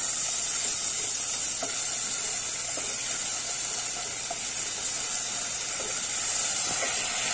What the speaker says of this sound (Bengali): আমি একটু চিনি দিয়ে আদাটাকে কষাতে থাকবো।